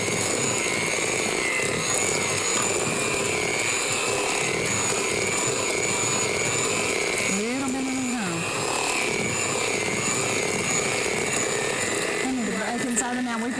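An electric mixer runs steadily, mixing shortbread dough as flour is added a little at a time; its whirring motor drone continues throughout, with brief voices over it.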